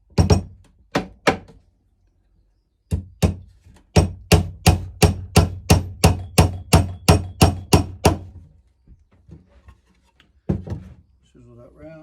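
Longer nails are hammered into a wooden National bee hive box, with sharp, close hammer blows: a few single strikes, then a rapid steady run of about a dozen evenly spaced hits, followed by quieter handling.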